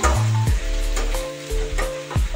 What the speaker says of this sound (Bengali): পেঁয়াজ পাতা বেশি ভাজার দরকার নেই, 1 মিনিট 2 মিনিটের মতো নাড়াচাড়া করলে হয়ে যাবে।